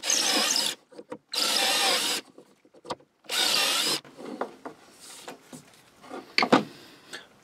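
A drill bores into wood in three loud, rasping bursts, separated by short pauses filled with light clattering and handling sounds.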